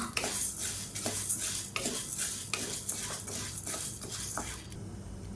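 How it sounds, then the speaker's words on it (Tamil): Chana dal is dry-roasted in oil in a pan while a metal spoon stirs and scrapes it. The scraping comes in a steady rhythm over a soft, continuous sizzle, with light clinks against the pan. "இப்போ இதை வந்து நல்லா வறுத்துக்கலாம்."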